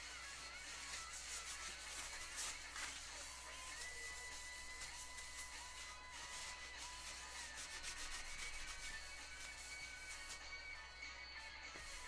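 A cloth dampened with alcohol rubs and wipes across the dash of a Peterbilt 359 truck being restored, producing steady close scrubbing strokes with brief louder swipes, continuous and alone without talk.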